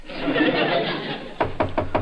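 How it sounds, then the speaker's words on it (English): Several knocks on a door in an old 1947 radio comedy, a quick run of four or five sharp raps following a stretch of murmuring voices and room noise. "Jane, do you hear someone knocking?"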